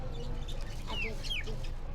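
A hen and a rooster being let out of a cage give a few soft clucks close by, with quiet background noise and no talking.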